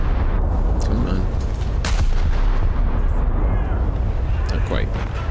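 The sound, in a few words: ship cannon firing in naval battle video game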